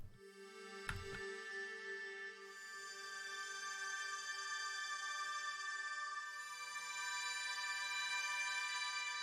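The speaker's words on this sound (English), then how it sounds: "I added this serum preset, which is called Celestial Light." Serum synth preset Celestial Light, an ethereal atmospheric string pad that swells in after a brief low stab and sustains steadily, bright and shimmering, brightening toward the end with no voices.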